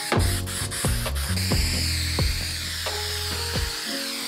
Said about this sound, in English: First I spray the seat, and I do it on top of the foam because there will be overspray.